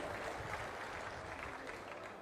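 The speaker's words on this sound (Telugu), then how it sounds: "గట్టిగా చప్పట్లు కొట్టి అభినందించండి." A crowd at an outdoor political public meeting in Achanta claps in a dense, steady patter that sounds faint and distant throughout, with no voices above it.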